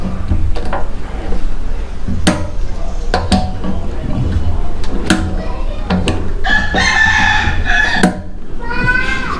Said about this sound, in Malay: Ayam kokok pula.